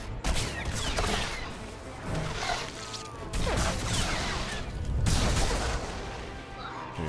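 Rapid blaster gunfire from Star Wars: The Old Republic, sharp zapping shots and impacts in repeated bursts amid a busy firefight, with brief speech mixed in.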